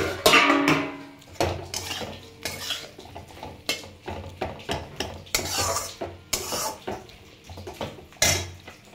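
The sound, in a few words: stirring chopped flat beans (shim) in a pan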